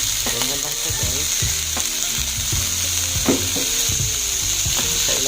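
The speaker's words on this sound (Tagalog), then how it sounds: "isalansa na natin tong broccoli dito sa loob ng kawali" Broccoli sizzles in a frying pan alongside chicken, with a loud, steady frying hiss broken by irregular clatters and knocks as the pieces are arranged and shifted.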